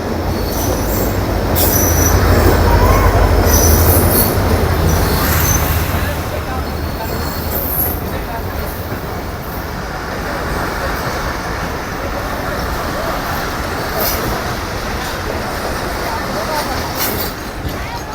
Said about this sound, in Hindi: पर आ रही है 48 डाउन रहमान बाबा एक्सप्रेस, जो पेशावर से कल चली थी और इस वक्त लांडी पहुंच रही है।